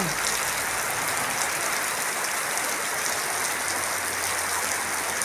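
Steady, dense rain pours down continuously, a broad hiss of drops hitting surfaces all around with no pauses.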